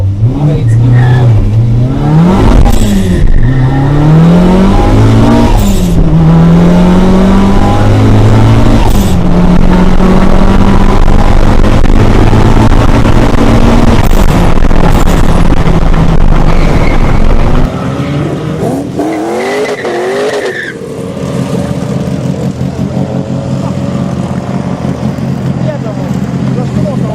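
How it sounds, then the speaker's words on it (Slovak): A tuned Škoda 120 turbo with about 180 kW and a Ford Mustang rev and accelerate in a drag race at a car show event, loud rising and falling engine notes with gear changes, under a commentator's talk. "Ford Mustang, Vojtech Mucha v ľavej dráhe, v pravej dráhe Přemek Kolek, Škoda 120, tých 180 kW"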